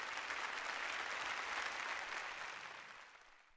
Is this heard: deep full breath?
no